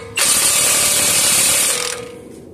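Ratchet tightening a nut on a front CV axle of a 2021 Chevy Silverado Z71: one close, continuous burst of rapid clicking lasting about a second and a half before it slows and stops.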